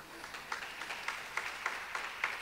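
A church congregation claps in a quick, even rhythm, each clap a faint, distant burst repeating about four times a second, with no talk over it.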